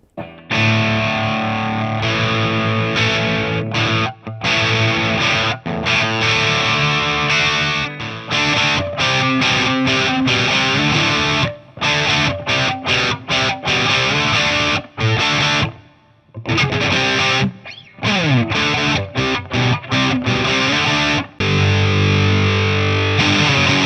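Electric guitar played through a JHS AT+ distortion boost pedal with the distortion engaged, loud saturated chords and riffs with short stops and gaps between phrases, no talking.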